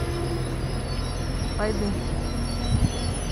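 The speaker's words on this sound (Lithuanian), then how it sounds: "O, kaip tik traukinys." A train arrives at Marijampolė railway station in Lithuania, heard as a steady low rumble with a faint wheel squeal, under a brief spoken word.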